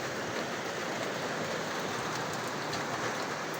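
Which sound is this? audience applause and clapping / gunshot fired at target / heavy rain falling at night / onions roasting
heavy rain falling at night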